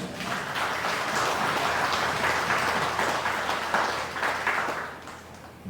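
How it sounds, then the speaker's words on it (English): A crowd applauds steadily in tribute to a Guyanese minister at a political gathering, dense clapping sustained throughout before easing slightly at the end. "I ask us to applaud him."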